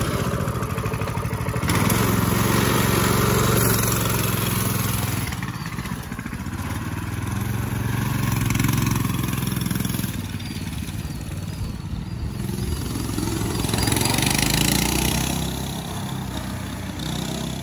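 A Coleman mini bike engine runs loud while being ridden, its steady buzzing drone swelling and fading in repeated waves as the bike passes closer and farther away outdoors.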